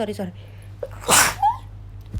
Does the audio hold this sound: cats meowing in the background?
no